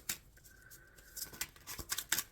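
Close, papery riffles and slaps come from a deck of tarot cards being shuffled, irregular bursts growing quicker toward the end, with a faint steady tone behind them and no voices.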